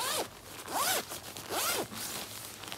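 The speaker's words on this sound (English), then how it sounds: "see how well this zips up." Plastic zipper on a Mountain Hardwear Phantom Gore-Tex sleeping bag pulled closed in three quick rising zips, close and clear with soft fabric rustle between strokes.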